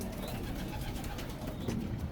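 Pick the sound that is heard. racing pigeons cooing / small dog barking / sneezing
racing pigeons cooing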